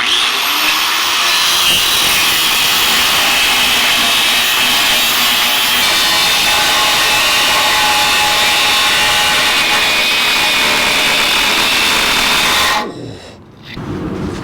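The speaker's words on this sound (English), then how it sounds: "Time to get out the cutoff wheel." A cutoff wheel grinds through the metal body of a 1949 Chevrolet gasser, a loud, steady, high-pitched screech sustained for about thirteen seconds before it spins down and stops near the end.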